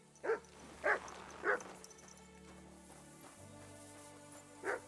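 Mutt, a dog in Kingdom Come Deliverance 2, gives four short yelping whimpers spaced about half a second apart over quiet background ambience, then a final yip near the end.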